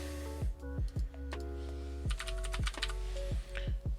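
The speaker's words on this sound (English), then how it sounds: "If I type Discord," Keys on a computer keyboard are tapped in short irregular bursts, close and crisp, over a faint steady hum, with no one talking.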